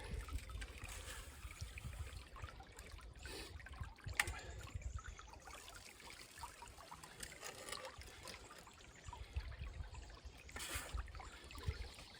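Water runs steadily through a gold sluice box loaded with classified sand from buckets, a continuous close trickling wash with slight surges, no one talking.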